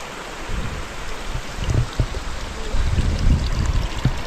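Water from a forest spring runs steadily, a close, continuous trickling and splashing flow with brief louder gurgles, and no voices.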